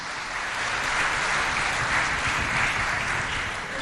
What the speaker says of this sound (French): Nous applaudissons très très fort pour l'accueillir